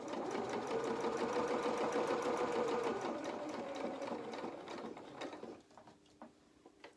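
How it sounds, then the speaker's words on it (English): Sewing machine stitching the inside leg seam of doll bloomers up to the crotch point, a steady close mechanical whirring chatter that runs loudly for about five seconds, then slows and stops with a few soft clicks. "And then I'm going to sew then up the inside of the leg, stop for the pins, up towards the crotch point"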